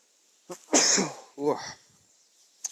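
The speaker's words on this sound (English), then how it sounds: "I got a sneeze coming" A single sharp sneeze bursts out, loud and close, followed by a short breathy sound, with a bit of voice around it.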